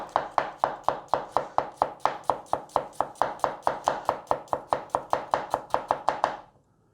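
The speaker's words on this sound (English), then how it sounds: "And then you slice it extremely thin this way" Knife slicing onion layers very thin on a board, about twenty-five crisp, evenly spaced cuts in a fast steady rhythm, close and clear, then stopping.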